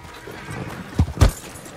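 A horse in a video game gives two quick, loud hoof clops in close succession over a faint whinny and low background noise.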